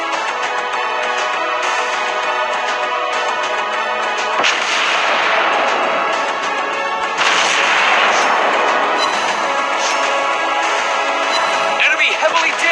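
Naval artillery fire from an American tier 8 battleship, North Carolina, in World of Warships Blitz, loud heavy gun booms over a constant dense roar of battle, with game voice announcements mixed in.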